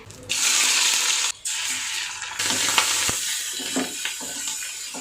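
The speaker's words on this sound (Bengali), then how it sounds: "ভাতটাকে ডিম পেঁয়াজ কাঁচা লঙ্কা দিয়ে ভাত ভাজা করে খাবো" Rice stir-fried with egg, onion and green chilli in a home kitchen hisses loudly in bursts, broken by short pauses and the scrape and clink of stirring.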